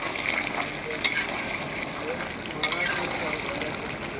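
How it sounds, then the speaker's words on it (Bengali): Spinach chicken curry being stirred in a pan, giving a steady low sizzle with occasional scraping clinks of the spoon against the pan, close by. "ঢাকনাটা এবার খুলে দেবো, খুলে দিয়ে একটু ভালো করে নেড়ে দেবো।"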